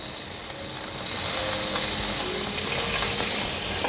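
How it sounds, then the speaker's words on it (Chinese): Curry leaves frying in melted vegan butter in a pan, a steady close broadband sizzle that swells louder after the first second and then holds, with no talk. "把咖喱叶炒香"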